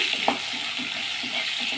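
Taro pieces frying in oil with salt and turmeric: a dense, steady sizzle close by, with soft rhythmic stirring scrapes and a single clink early on, and no talking.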